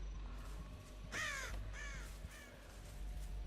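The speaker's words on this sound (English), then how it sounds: "the crows did make me jump while I was playing" Crows caw in the Dead by Daylight video game, two or three harsh descending calls in quick succession over a low steady background hum, fairly close with no speech.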